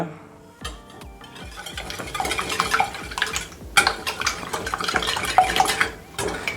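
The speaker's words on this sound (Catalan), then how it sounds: "Barregem bé." Eggs, milk and sugar for a homemade flan are whisked in a bowl, with quick repeated scraping and clinking of a utensil against the side, close and busy, with no talking.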